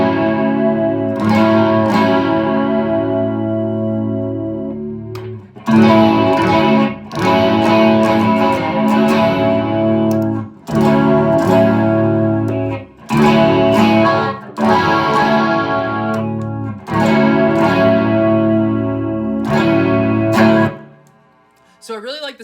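Electric guitar played through an effects pedal, distorted chords ringing out in phrases separated by brief pauses, with a wobbling chorus-like shimmer.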